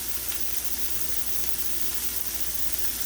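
Diced garlic sizzles steadily in a hot pan with Brussels sprouts, a soft, even hiss of frying with no talking.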